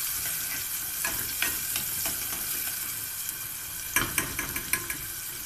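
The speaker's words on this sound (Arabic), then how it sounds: "حطينا فيها شويه زيت وحته سمنه. هننزل بقى فيها ايه؟ بالبصله عشان ندبلها شويه" Onion frying in oil and ghee in a pot, a steady close sizzle with occasional sharper crackles and pops, alone without speech.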